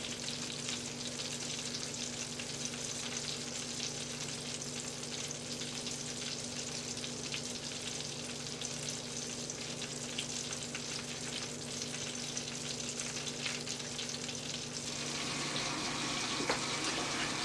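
Chicken slow-frying in a pan gives a steady, dense sizzle that holds constant with no talk, then turns slightly brighter near the end.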